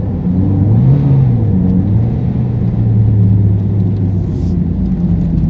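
A car engine labouring in low gear while climbing a steep hairpin mountain road in Thailand, a loud continuous rumbling drone that rises and falls in pitch.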